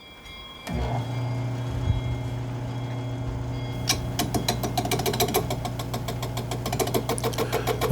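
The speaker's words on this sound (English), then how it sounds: "I'm going to cut the top off now so I can create the lid to this vessel." A wood and resin vessel having its top cut off on a machine that starts with a thump and settles into a steady motor hum, then adds a fast rhythmic chattering rattle partway through, close and continuous with no talking.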